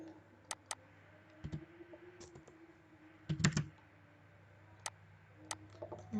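Sparse keystrokes on a computer keyboard while drafting in CAD software: isolated close clicks and a brief cluster of taps, separated by quiet pauses in a still room.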